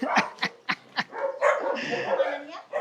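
A dog named Dilim lets out a quick run of close, loud barks, followed by yips and whimpers mixed with people talking nearby.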